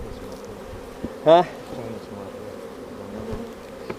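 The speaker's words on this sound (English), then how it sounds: "this damn thing is loaded with bees" Honey bees buzzing in a hive loaded with bees, a steady close hum throughout, with a brief voice near the middle and a few soft knocks.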